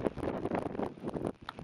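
Wind buffets the microphone in rough, continuous gusts, fairly close and unsteady, strong enough to push a cyclist, on a hiking trail in Israel.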